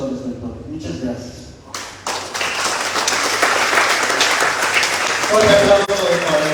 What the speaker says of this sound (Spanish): Un aplauso para el sector del pueblo de Bolivia, Pedro García.